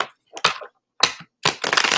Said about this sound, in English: Let me shuffle one more time, Connor.